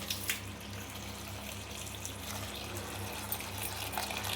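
Sprouts are rinsed under running water in a kitchen: a soft, steady trickle and splash, faint and continuous, with a few small clinks.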